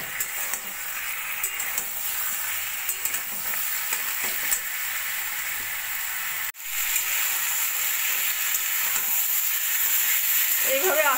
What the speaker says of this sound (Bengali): এবার ভালো করে মশলাটা আমি ভাজা ভাজা করে নেব।